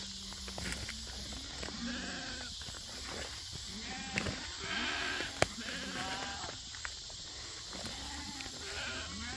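Weaned goats bleat repeatedly in a noisy outdoor pen, several animals calling over one another against a steady background hiss.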